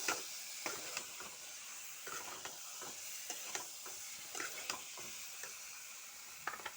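Spice paste sautéing in a pan for a lentil bori curry with yam and potato, a faint steady sizzle under soft, irregular scraping taps from stirring.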